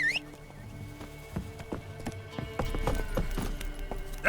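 Roach the horse walking in a video game, a steady run of hoof clip-clops at moderate pace, fairly quiet against a soft background of ambient game sound.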